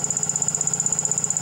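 A Brewer Science CEE 100 spin coater winding down, giving a steady high whine with a soft, regular pulsing hum underneath, fairly quiet and unbroken, with no voices.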